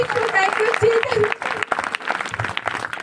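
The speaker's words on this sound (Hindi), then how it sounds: "प्रभु का धन्यवाद, जोर से तालियां।" Church congregation claps during a testimony service, scattered applause mixed under loud talking and exclamations from voices nearby, fairly busy and uneven throughout.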